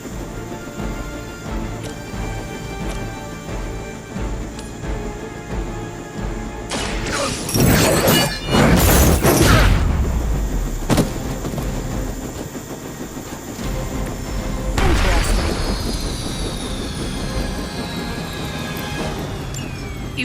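Helicopter stopped and brought crashing down in the game Marvel's Midnight Suns. A loud roaring engine drone builds into a violent smashing impact with crunching debris, then a sweeping metallic rumble. A voice speaks briefly.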